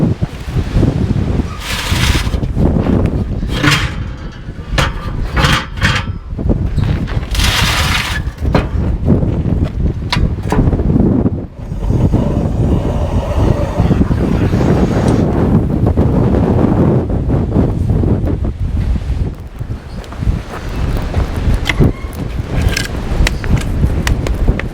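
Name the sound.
high wind in the desert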